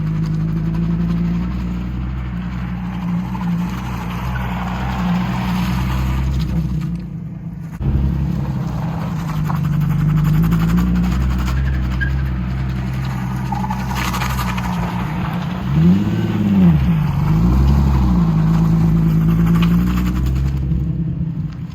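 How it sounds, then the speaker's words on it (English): A Nissan 350Z drift car fitted with an angle kit driving around the block, steady engine drone heard from inside, with shifts in pitch as it lifts and revs, loud and continuous without talk. "Took the car out for a little drive around the block just to see how the angle kit feels"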